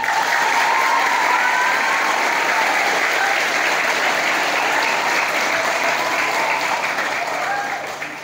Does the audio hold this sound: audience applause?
yes